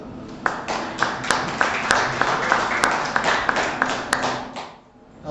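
An audience gives a loud round of applause as a presenter is introduced at a live event. Dense, steady clapping with sharp individual claps runs for about five seconds, then dips and fades near the end.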